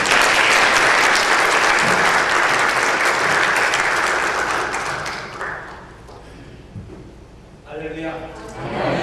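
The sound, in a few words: audience applause welcoming the pastor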